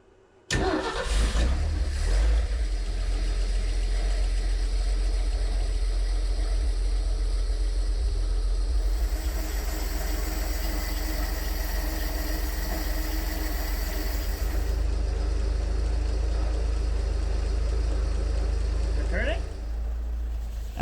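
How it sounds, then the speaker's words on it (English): An old van's six-cylinder engine fires up and settles into a steady, loud idle close by, holding an even rumble for about twenty seconds. "Project Tetanus now runs and idles on its own."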